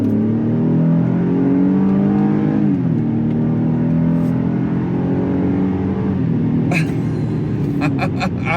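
A 2022 Chevrolet Colorado pickup at full throttle gives a loud, steady engine roar that climbs in pitch, drops at a gear shift, then climbs again, with a few sharp clicks near the end.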